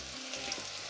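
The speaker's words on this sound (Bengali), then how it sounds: "এতিয়া আমি মাংস বহে দিম" Meat added to fried onions in a hot pan, a soft steady hiss and sizzle, faint and close, with no voices.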